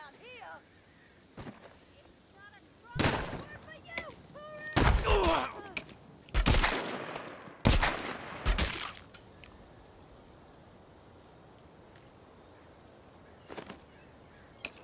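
Enemy gunfire in The Walking Dead: Saints & Sinners VR game, a handful of sharp, fairly loud shots in an irregular cluster over quiet background ambience, with a few fainter shots later.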